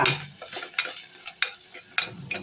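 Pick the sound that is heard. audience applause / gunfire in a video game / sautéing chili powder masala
sautéing chili powder masala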